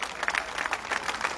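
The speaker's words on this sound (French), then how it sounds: "Applaudissements très fort." A crowd claps steadily in a dense, continuous burst of applause, moderately loud with no pauses.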